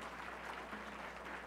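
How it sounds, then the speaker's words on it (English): Applause from a crowd at a Novi High School pep rally honouring the school's volleyball team: a dense, steady wash of many hands clapping, fairly faint and distant, with no gaps for its whole length. "round of applause for our Novi High School volleyball team"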